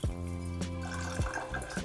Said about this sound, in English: you can actually just pour it through the lid now